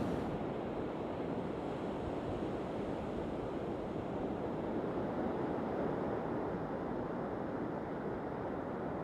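Ocean surf at Coney Beach, Porthcawl, a steady, dense roar of waves with wind buffeting the microphone throughout, loud and continuous with no talking.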